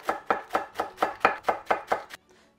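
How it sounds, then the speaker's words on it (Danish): A knife chops salad vegetables on a board in about nine evenly spaced, crisp, close strikes, then stops, with no voices. "så nu laver vi vores salater, vi snitter og skærer alt det, som vi kan komme i en salat"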